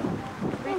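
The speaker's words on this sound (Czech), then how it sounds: "Teďka hezky fouká." Gusty wind in the Tatra mountains buffets the microphone in uneven low rushes for under a second, with a voice faintly present underneath.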